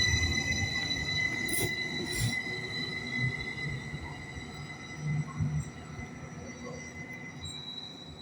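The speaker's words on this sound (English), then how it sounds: "Here goes 755, 414 on a Greater Anglia service to Ipswich from Cambridge" A Greater Anglia class 755 train on a Cambridge to Ipswich service rolls steadily past at close range, its wheels squealing with high sustained tones over a continuous rail rumble, with no voices.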